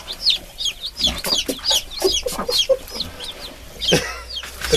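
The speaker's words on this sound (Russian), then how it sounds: "Подложили цыпляток под курочку новых" A broody hen settled with newly added chicks clucks in steady low bursts while the chicks cheep high and thin around her, close and busy throughout.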